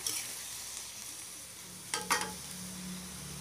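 Water spinach with tomato sizzles in a pan under a steady hiss, and two quick scraping stirs sound close by near the end. Nobody talks.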